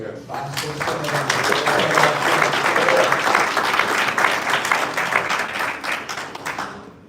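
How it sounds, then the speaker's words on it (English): Audience applause at a Black Men For Kamala call-to-action rally, a sustained crowd of clapping hands with some voices mixed in, steady and full for about seven seconds before easing off at the end. "I just want to give a round of applause"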